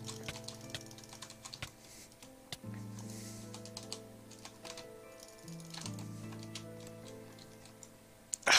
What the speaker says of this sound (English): You guys have probably been hearing it all video, but I'm clicking like 15 times a second now